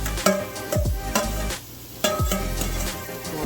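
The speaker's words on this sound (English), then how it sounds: "So next I'm going to saute my carrots, onions, and celery." Carrots, onions and celery sizzle in a hot pan while being stirred, bursts of frying hiss broken by scraping and clacking of a utensil, close and fairly loud.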